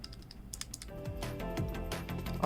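Quick clattering presses on Cherry MX Speed Silver switches in a Hitbox arcade controller, a rapid irregular run of soft clicks close up, faint and alone.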